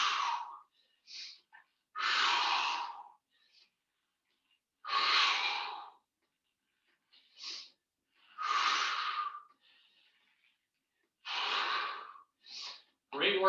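Heavy breathing during a reverse fly exercise: loud, rhythmic exhales and gasping breaths close to the microphone, repeating every second or two with short silences between.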